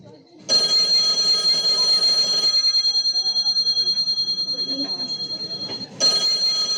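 A telephone rings in loud, steady electronic bursts during a school stage drama, with a gap in the middle where people talk before the ringing starts again.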